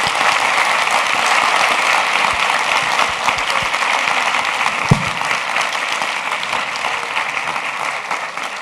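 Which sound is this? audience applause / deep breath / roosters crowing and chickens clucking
audience applause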